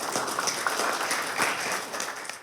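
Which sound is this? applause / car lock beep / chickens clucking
applause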